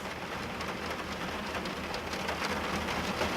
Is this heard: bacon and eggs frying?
no